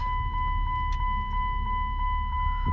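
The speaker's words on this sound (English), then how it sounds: "I hear relay" A faint, steady ticking repeats at an even pace, roughly three clicks per second, from a relay in a 2002 Chrysler 300M with its blower motor disconnected, set against a low, constant hum.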